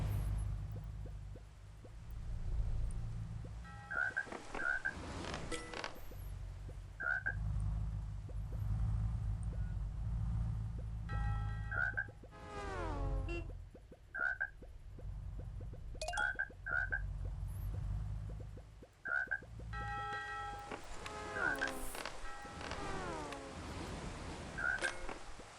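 Desert frog in the video game Crossy Road, short croaks repeating at irregular intervals over a low rumbling game background, with warbling chirps mixed in.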